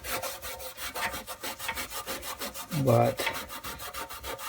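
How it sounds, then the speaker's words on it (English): Rust being scrubbed off an old Powr-Kraft metal toolbox, a fast rhythmic rasping rub repeated back and forth close up, with a short spoken word in the middle. "I'm going to clean a little bit of this rust off"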